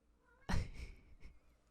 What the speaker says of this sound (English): What's he doing? Meowing?